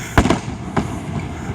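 Canada Day fireworks bursting outdoors, a few sharp booms spaced out over a moment, each with a rolling tail against a low background hiss.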